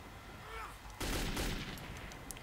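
Bursts of gunfire from the companion Khan in Metro 2033, starting abruptly after a quieter stretch and continuing as a fairly distant, steady rattle of shots with no talking.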